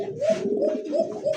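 A pair of Afsan Bagha Beauty pigeons coo close by, repeated rolling low coos in a steady rhythm with short pauses between them.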